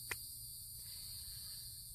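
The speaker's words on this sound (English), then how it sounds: "Now here comes the cicadas. Here they go." Cicadas buzzing outdoors: a steady, high, even drone holds through the whole stretch, faint and distant, with a brief soft tap near the start and no talk.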